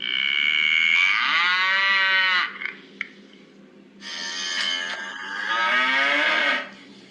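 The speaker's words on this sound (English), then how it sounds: "What animal's that? Cow." A recorded cow moos twice in long, loud, drawn-out calls, each sliding in pitch, with a brief quiet gap between them.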